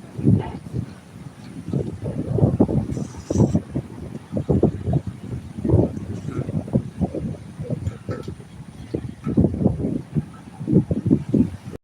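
Strong wind buffeting outdoors in repeated loud low gusts, rumbling and surging against the microphone almost without pause.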